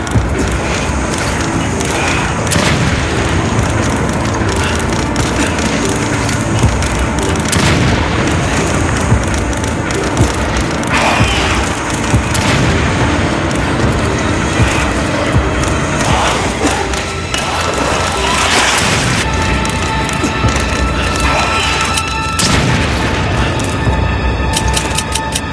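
Grenade blasts in Resident Evil 5 thump through a dense, continuous wall of game noise, with crowd-like enemy shouts and repeated booming bursts running loud throughout.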